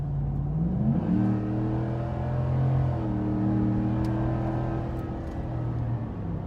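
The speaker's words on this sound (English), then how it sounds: "that was a quick pull up to 70 miles an hour, and you could hear it." A deep V8 exhaust on a 2015-2018 Ford F-150 5.0 with a Flowmaster Force II system, heard in the cab, rumbles and rises in pitch as the truck accelerates hard to 70 mph, with a gear change, then holds a steady loud drone.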